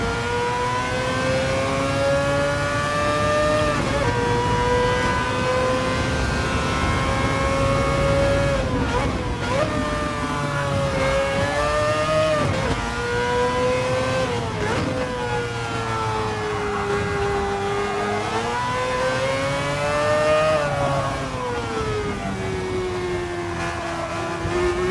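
A Mazda 787 race car lapping Fuji in a racing video game, its engine a loud, high wailing tone that rises and falls with throttle and braking through the corners.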